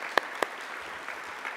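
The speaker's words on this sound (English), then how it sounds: "Let's give them a round of applause, please." Audience applause at a talk, a soft bed of scattered clapping with two sharp, close hand claps standing out near the start.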